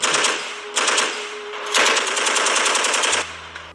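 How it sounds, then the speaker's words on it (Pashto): Kalashnikov rifle gunfire rattles out in three rapid, loud automatic bursts with short pauses between them, followed by a low rumbling hum at the end. "ناڅاپه مې د کلشنکوپې د ډز غږ تر غوږونو شو"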